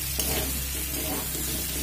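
Boiled lentils going into a hot pan of cooked tomato, a dense steady sizzle with light stirring, close and continuous over a short stretch, no voices.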